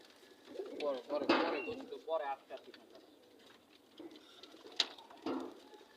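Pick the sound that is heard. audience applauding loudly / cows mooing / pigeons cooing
pigeons cooing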